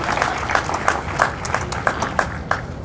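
Audience applause for a Mississippi state senator at a morning dedication event, a crowd's clapping with a few louder individual claps standing out rhythmically, moderately loud throughout.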